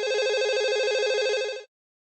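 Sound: telephone ringing

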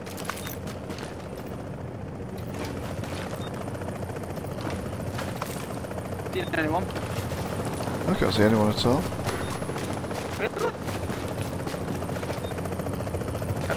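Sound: helicopter approaching in the video game The Division

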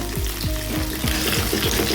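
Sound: bhola fish pieces frying in oil

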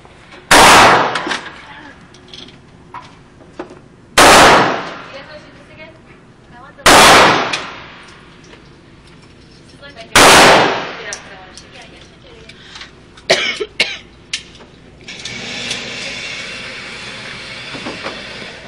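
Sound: gunshots from a Phoenix Arms HP22A pistol

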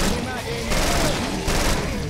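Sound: rapid gunfire from video game Killing Floor

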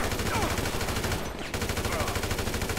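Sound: sniper rifle gunfire in video game Grand Theft Auto V

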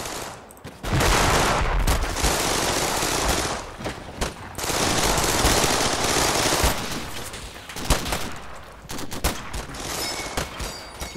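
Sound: gunfire in Combat Mission Final Blitzkrieg video game

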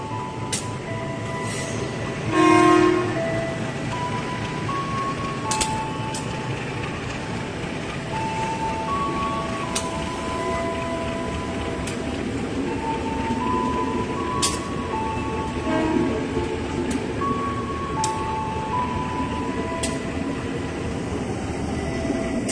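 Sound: KRL commuter train departing Bogor station with horn

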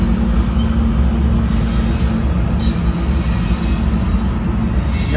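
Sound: freight trains of Union Pacific railroad moving

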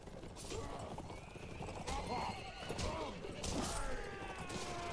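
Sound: horses neighing and hooves in Mount and Blade video game

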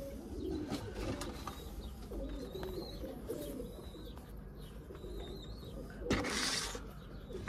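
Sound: karaboş bird calling

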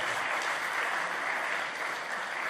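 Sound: audience applause at church assembly

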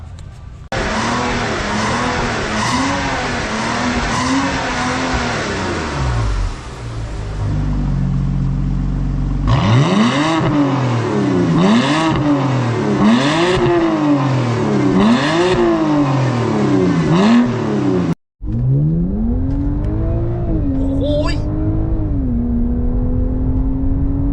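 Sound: car revving with aftermarket exhaust

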